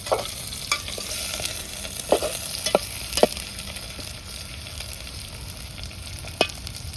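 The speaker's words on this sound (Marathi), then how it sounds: "हे आपलं तेल टाकून चांगला तेलात सुद्धा कांदा तळून घ्यायचा आहे" Onion fries in oil in a pot over a wood-fired stove at a village fair cookout, a soft continuous sizzle broken by a few sharp spoon scrapes and clinks, no talking.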